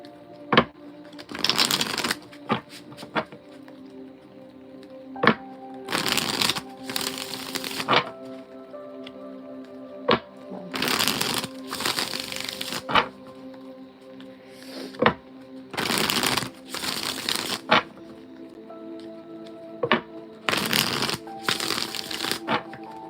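Oracle cards shuffled by hand in repeated bursts of riffling and crisp slaps, several shuffles separated by short pauses, close and fairly loud.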